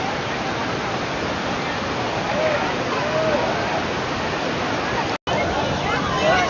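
Natural water flowing at a bathing ghat, a loud, continuous rushing like a waterfall with faint voices blended into the roar.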